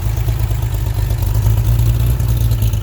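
A Corvair-engined sand rail that has sat a long time, its carburetor badly in need of cleaning and its fuel stale, running loud and close with a rough, steady low rumble and mechanical clatter.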